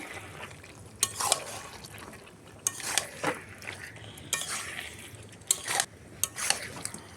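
Chicken and potato sautéing in a pan, with intermittent spoon scrapes and clinks against the vessel over a soft, moist cooking sound, quiet and close.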